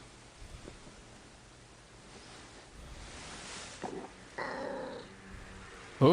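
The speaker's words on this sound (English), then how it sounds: "that is quite deep and hoarse." Low rumbling noises and scattered soft sounds, then a short, rough, gravelly cat vocalization right at the end, fairly close.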